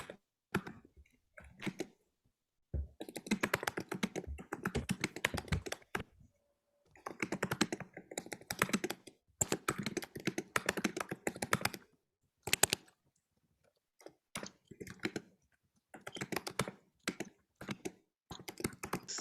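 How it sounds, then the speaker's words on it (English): Rapid clicking of computer keys in irregular bursts with short pauses, close and crisp, sounding like someone typing quickly. "it's picking up a lot of the typing noises"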